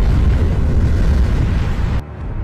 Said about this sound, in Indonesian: Sambil membawa detonator, ia meluluh lantahkan rumah sakit tersebut.